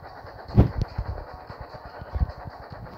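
A train runs in a Thomas train video game with a rhythmic rumble and scattered clicks under a steady high tone, and a few louder thumps punctuate it.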